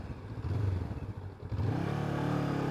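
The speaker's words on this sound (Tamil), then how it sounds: "வண்டியை நான் லான்ச் பண்ணுறேன். ஃபர்ஸ்ட் கியர் போடுறோம்." A Honda NX500 adventure motorcycle launches from a stop in first gear. A rumbling idle gives way to a brief dip, then the engine rises into a strong, steady, close revving drone.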